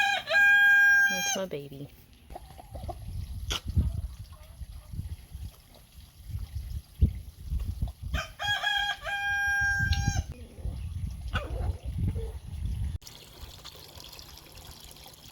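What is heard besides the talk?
chickens, rooster crowing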